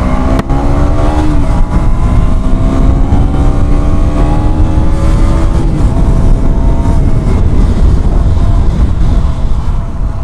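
A 2021 KTM Duke 125 BS6 motorcycle engine revs hard up close, its loud droning tone climbing in pitch through each rev and then settling into a sustained roar.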